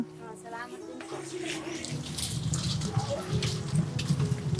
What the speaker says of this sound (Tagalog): Umuulan po kasi tatay eh.